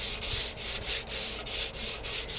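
Hand sanding Harley primer with 220-grit paper, about nine rhythmic back-and-forth rubbing strokes, close and steady, with no talk.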